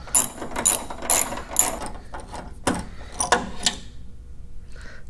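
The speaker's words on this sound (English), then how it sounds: "now let's go ahead and put our extension on and get these last bolts out" A ratchet with an extension loosens Hummer H3 front bumper bolts, giving rapid clicking bursts close up, followed by scattered metallic clinks and handling noises.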